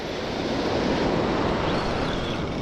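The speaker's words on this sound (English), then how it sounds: "just walking along the beach." Waves wash steadily onto an ocean beach in a continuous loud roar of surf, with some wind noise on the microphone and no speech.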